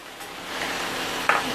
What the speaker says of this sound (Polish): Tutaj już mięsko się smaży.